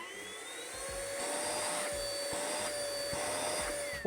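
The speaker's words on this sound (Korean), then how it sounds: "요거를 그냥 들고 다니면은 차량용 핸디 청소기로 사용할 수가 있어요" A cheap cordless handheld vacuum cleaner whirs steadily with a high motor whine and airy rush, close and even throughout, with faint handling knocks underneath and a brief bump at the end.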